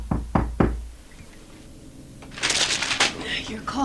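Three quick, solid knocks land on a door, then a short lull before voices start talking in a room.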